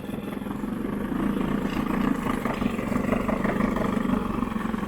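An Evinrude 9.5 hp outboard motor idles at its lowest speed, a steady low chugging engine note held close and even throughout, with no talk over it.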